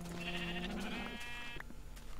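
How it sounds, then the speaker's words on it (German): Sheep bleating in Minecraft, a single wavering bleat followed by a shorter second call, moderately loud over low background game ambience. "Oh, hier ist ja noch ein Schaf."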